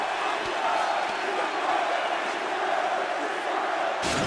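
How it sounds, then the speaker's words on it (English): A dense arena crowd roars and cheers continuously in EA Sports UFC 4 after a round of a mixed martial arts bout, a loud, sustained wash of voices that swells briefly near the end. "So the crowd voicing its appreciation after that round."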